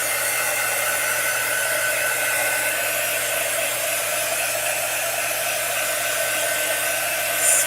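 A hair dryer blows steadily at close range, drying chalk paste on a reusable chalkboard, with a constant whirring roar and no talking.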